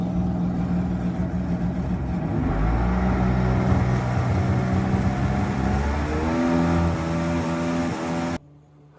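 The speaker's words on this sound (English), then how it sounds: "I'm just going to run it for a while idling." Polaris Genesis 1200 DI personal watercraft from 2003, its two-stroke engine running and revving steadily after a cracked cylinder repair, loud and near, pitch shifting before cutting off abruptly near the end.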